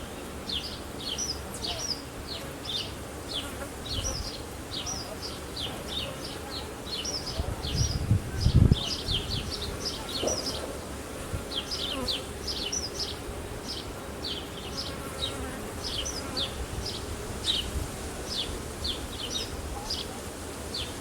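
Honeybees swarm thickly around an open hive during an inspection, a steady close droning buzz that runs throughout, with birds chirping repeatedly in the background.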